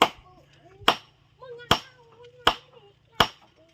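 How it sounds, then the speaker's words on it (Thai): Hammer strikes a nail into wooden roof framing while building a kitchen roof, five sharp separate blows landing at a steady, unhurried pace, close and loud, with quiet talk between hits. "ตอกใส่ไม้อีกดอกนึง"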